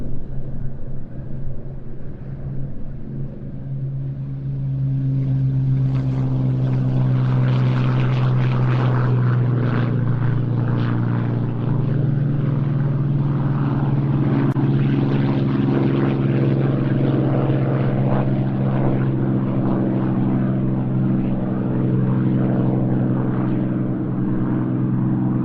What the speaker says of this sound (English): here go the 2 Spitfires that are going to be forming our final act of the day